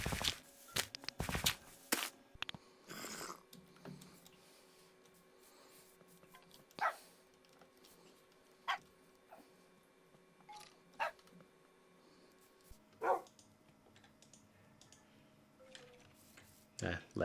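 Dogs barking in the Minecraft FTB modpack, a handful of sharp separate barks spaced out irregularly against a quiet game background, with a tick-like sound underneath.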